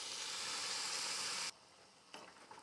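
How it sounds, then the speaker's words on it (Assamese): Hot water poured into frying pumpkin gives a loud burst of steamy hissing sizzle that cuts off abruptly, followed by quieter clinks and bubbling. "গৰম পানী দি দিলোঁ।"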